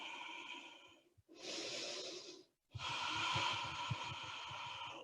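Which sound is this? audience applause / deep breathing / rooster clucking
deep breathing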